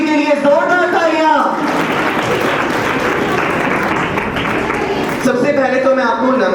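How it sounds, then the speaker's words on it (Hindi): Loud audience applause at an Independence Day event for a performer portraying Indira Gandhi, a dense burst of clapping for about three seconds, bracketed by someone speaking into a microphone before and after. "एक बार श्रीमती इंदिरा गांधी जी के लिए जोरदार तालियां"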